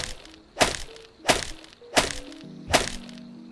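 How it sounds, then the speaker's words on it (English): Four sharp gunshot sound effects crack out at roughly even intervals, each a sudden loud burst that decays quickly over quiet background tones. "I need a gunshot sound effect."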